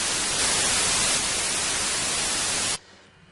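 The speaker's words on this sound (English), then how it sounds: "set the first oscillator to noise, and turn off all the other ones" Steady broadband white noise from an FL Studio 3x Osc oscillator set to noise, loud and constant, then cut off abruptly near the end with a faint residual hiss, no talking.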